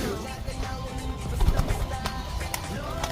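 An opal-coloured racing pigeon at a training session gives soft, low cooing close by, partly buried under steady background noise and people talking.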